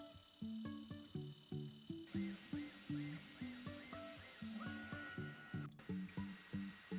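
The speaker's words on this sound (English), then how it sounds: "Total etching time with the laser for this project was about 3 minutes" An Ortur Laser Master 3 etching an aluminum plate, played sped up: rhythmic, quiet electronic whirring tones from the stepper motors pulse in a steady repeating pattern.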